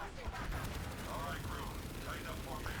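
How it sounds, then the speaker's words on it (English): Faint, continuous rapid gunfire as a crew shoots at security nodes in Warframe, a rattling fusillade that stays low in the mix under a voice talking throughout. "my crew are shooting the security nodes"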